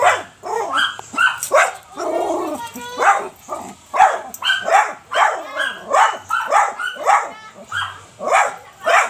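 A dog barks repeatedly and excitedly, close by, in rapid yapping bursts mixed with whines, while people talk in the background.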